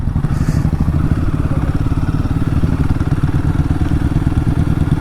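A motorcycle engine idles with a steady, close mid-pitched chug in a parking area, accompanied by occasional light clatter and thumps as it is moved into place.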